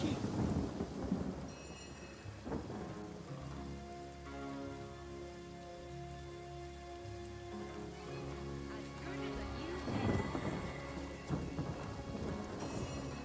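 Rain and rolling thunder from a storm spell cast in the video game Divinity: Original Sin, a steady hiss of rainfall with thunder booming near the start and again around the tenth second, no voices.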